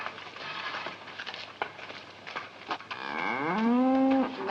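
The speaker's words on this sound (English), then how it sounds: "we look at this big cow" A big cow mooing close by in a classic Jack and the Beanstalk film, one long, loud, drawn-out low moo rising in pitch after a few seconds of background noise.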